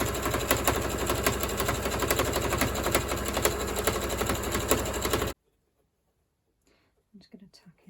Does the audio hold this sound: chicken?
no